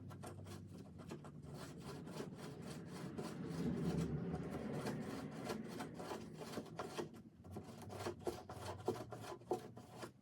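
Rust is scrubbed off a metal tool box in a continuous, close, rasping rub that swells and eases with each pass of the stroke, with no speech.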